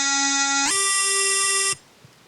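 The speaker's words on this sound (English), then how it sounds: "Next, what we want to do is we want to modulate this sound by operator 2." Sytrus FM synth tone with operator 1 modulated by operator 2, a buzzy harmonic-rich note that jumps up in pitch and holds steadily before cutting off abruptly, alone with no talk.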